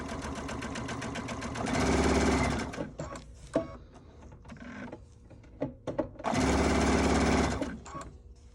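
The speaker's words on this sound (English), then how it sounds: "So we're going to go ahead and start to sew." A sewing machine stitches a circular fabric placemat for a round table, running in two loud, steady bursts up close with handling clicks and quieter rattling between them.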